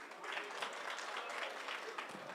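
Audience clapping at a Migori County security forum, steady and moderately distant, continuous for a couple of seconds at fairly low level.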